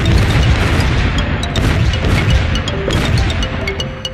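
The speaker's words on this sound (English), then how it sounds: "Oh, he shoots lots of Jerry rockets." Rockets burst in a Plants vs Zombies battle against a gold Zomboss, a dense barrage of booming game explosions with sharp pops layered over a continuous loud rumble.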